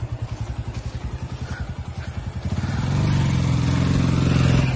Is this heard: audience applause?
no